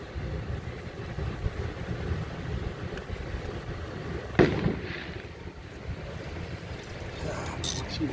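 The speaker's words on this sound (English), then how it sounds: "Somebody's blowing off fireworks now." Fireworks go off in the distance during a front brake job on a Hyundai Sonata, heard as a sharp pop partway through over steady outdoor background noise.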